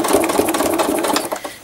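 Close, loud sewing machine stitching thread art on fabric, a rapid rattling run of stitches that slows toward the end with a brief dip before resuming.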